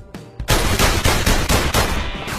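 Rapid gunfire bursts in the VR video game The London Heist, loud and close, keeping up a fast rattling rhythm for about two seconds after a brief lead-in.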